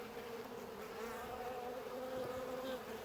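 Honeybees in a top bar hive give off a continuous, dense buzz that stays quiet but steady throughout.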